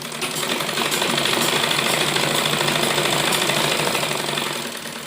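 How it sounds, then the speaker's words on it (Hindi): Sewing machine running continuously as it stitches the seams of a churidar pajami, a dense, steady mechanical whirring rattle close up, holding even throughout and easing slightly at the end. "ये आधा इंच की सिलाई लेते हुए हम ये अपने जो जोड़ हैं इनको लगा लेंगे"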